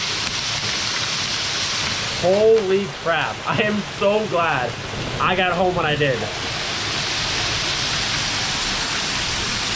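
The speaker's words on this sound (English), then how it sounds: "the pieces of hail are huge. You can hear it smacking in the garage door." Heavy hail and rain pound a garage door in a dense, continuous roar, loud and close throughout, while someone speaks briefly over it.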